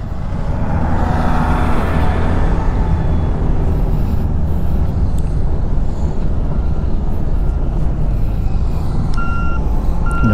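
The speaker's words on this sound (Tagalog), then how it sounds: "Wow, ang daming truck." Many trucks work a lahar site at Lake Mapanuepe in San Marcelino, Zambales, with a loud, continuous engine rumble and a bulldozer nearby, while a repeated high reversing beep sounds throughout.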